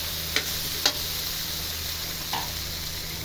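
Sliced potatoes, some cut thin, fry in a pan with a steady, soft sizzle and hiss, broken by a few light clicks of a utensil against the pan.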